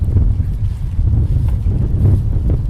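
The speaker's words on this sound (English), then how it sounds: "It's quite windy." Wind buffets an uncovered handheld recorder microphone outdoors, a loud continuous low rumble with gusty swells and no speech.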